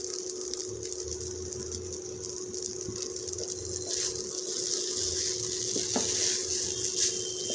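Fried crushed nuts are stirred into sweet jorda rice in a pan, giving a steady soft sizzle with scraping and stirring sounds, a constant hum behind, and occasional light clinks of utensil on pan.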